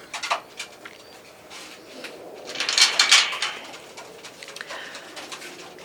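Racing pigeons in a loft of young birds give soft, scattered coos that swell briefly near the middle, heard close over a quiet indoor background with no talking.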